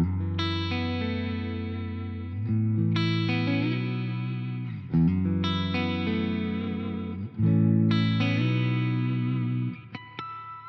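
An electric guitar plays through a Victory V4 amp with the reverb turned up, giving four sustained distorted chords, each ringing out before the next strikes, with a reverberant tail and a few short plucks at the end.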